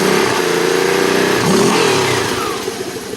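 A 2010 Kawasaki Teryx 750 side-by-side engine runs steadily and revs up, a loud, close mid-pitched drone that swells and eases without pause.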